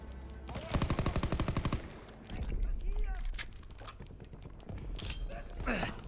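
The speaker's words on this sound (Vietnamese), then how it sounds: "nó có súng máy đây" Rapid bursts of automatic machine-gun fire in Call of Duty: WWII, a long rattling volley followed by shorter scattered shots and effects.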